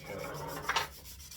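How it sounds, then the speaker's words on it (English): Light sandpaper rubbing on a varnished wooden cello, soft raspy strokes close up with a brief brighter scrape in the middle. "I have to be very careful when I sand that it's very light"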